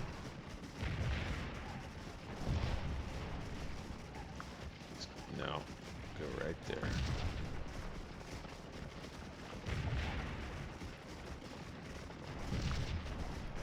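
Musket and artillery fire from troops in the Civil War strategy game Scourge of War, booming bursts and crackling volleys under steady battlefield noise while someone talks over it.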